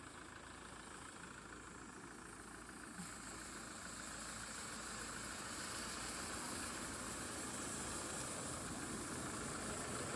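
A Mahindra 415 four-cylinder engine idles, a faint, steady low rumble with a soft knocking pulse that swells slightly and then holds level.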